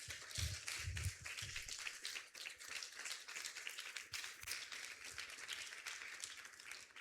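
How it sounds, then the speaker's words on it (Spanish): A church congregation applauds during a Spanish-language sermon, scattered hands clapping in an uneven patter at a quiet, somewhat distant level, with a few heavier low thumps near the start. "Dale un fuerte aplauso al Señor hoy en esta hora."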